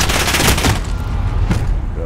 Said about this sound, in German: Ah ne, eine Schrotflinte ist das